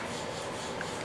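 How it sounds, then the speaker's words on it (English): A screw is dragged through a block of wax to coat its threads while a 12-string dreadnought guitar is being built, giving a steady close rubbing, rasping scrape with no talking. "I just take and drag the screw through the wax to get the wax on the threads"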